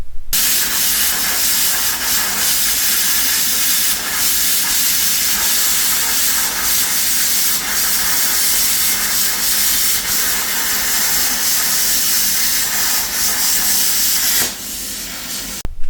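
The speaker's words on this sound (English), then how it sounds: "I've got a cheap plasma cutter for that. So cue a short video of cutting a couple of these guys up" A cheap plasma cutter slices through DOM steel tubing with a loud, constant, harsh hiss that runs unbroken for about fifteen seconds before cutting off.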